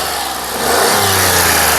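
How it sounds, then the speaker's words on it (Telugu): A 2012 Skoda Fabia's engine revs up loudly and close by, a steady roar rising in pitch and holding, with no voices. "ఇంజన్ యొక్క నాయిస్ చాలా సైలెంట్గా అయితే ఉంది"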